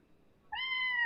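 A person imitates a cat with a single clear, drawn-out meow that starts abruptly after near silence and holds steady to the end.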